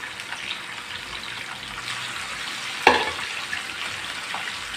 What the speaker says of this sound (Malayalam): ഇവിടെ എണ്ണ ചൂടായി വന്നിട്ടുണ്ട്. നമുക്കിനി ബീഫ് വറുത്തെടുക്കണം.